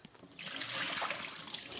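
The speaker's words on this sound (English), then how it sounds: "So I'm just going to go ahead and dump that out in the sink" A little leftover water from a Berkey water filter is poured out into a sink, a short close splashing gush lasting over a second.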